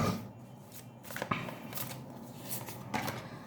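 Tarot cards being shuffled by hand, heard as soft, quiet papery rustles and faint flicks that come in loose bursts, with no talking.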